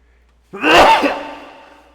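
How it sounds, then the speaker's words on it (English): A single sneeze bursts out close by after a short silence, sharp at first, then trailing off into a breathy fade. "I've got a little sneezing situation happening"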